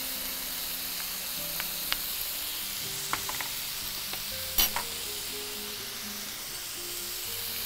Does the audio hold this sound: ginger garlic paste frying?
yes